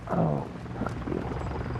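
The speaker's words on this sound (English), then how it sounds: "Hostile Overwatch helo in the area." A hostile Overwatch helicopter in a video game, a deep, loud, continuous rumbling drone close by, with a brief voice at the start.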